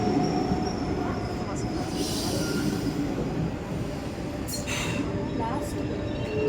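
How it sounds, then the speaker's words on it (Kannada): At a windy station in Hamburg, a train arrives with a steady rolling rumble and a few faint brake hisses, while people talk over it at moderate volume. "ಫೈನಲಿ ಟ್ರೈನ್ ಬಂತು."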